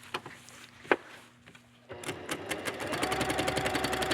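A needle felting sewing machine stitches into silk dupioni, with a few soft clicks and thumps at first, then the motor starts and runs in a fast, rhythmic mechanical chatter that grows steadily louder and closer.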